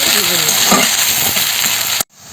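Cumin and chopped onion sizzle in hot oil for a tempering, a loud, close, continuous crackling hiss that cuts off abruptly near the end.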